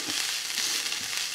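Chopped ginger fries in oil in a pan, giving a steady, close hiss of sizzling throughout the brief moment.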